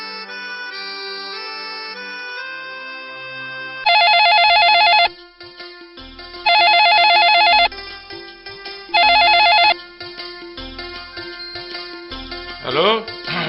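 A mobile phone ringtone sounds in a Rajasthani film scene, ringing in three loud, evenly spaced bursts that cut in over soft background music.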